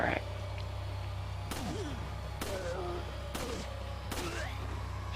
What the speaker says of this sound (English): So let's keep shooting them.